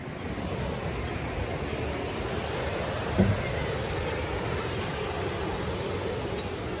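Sea waves wash steadily onto a Goa beach, a continuous hissing roar with a brief soft bump midway and no voices.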